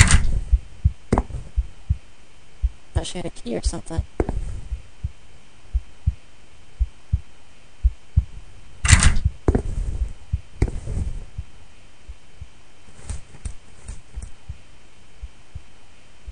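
Rhythmic heartbeat thumps pulse through the horror video game Which, a steady low throb running under faint ambience, with a few brief louder bursts along the way and a player talking briefly.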